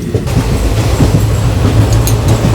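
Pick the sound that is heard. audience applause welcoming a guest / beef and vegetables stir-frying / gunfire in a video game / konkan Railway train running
konkan Railway train running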